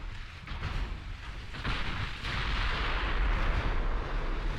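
Naval guns firing at enemy ships in the Ultimate Admiral Dreadnoughts naval warfare game, a dense, continuous roar of heavy booming rumble that swells louder midway and keeps going, with no voices.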